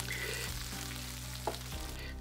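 Chopped onion and pepper fry in a pan for Spanish fideos with chicken, making a soft, continuous sizzle over a brief moment without talk.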